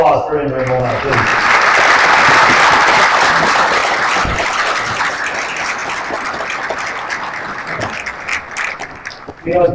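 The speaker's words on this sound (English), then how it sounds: "One more round of applause for Imre Molnar, please." An audience at an automotive design forum breaks into loud, dense applause that swells and then slowly thins out, with a voice speaking briefly at the start and again at the end.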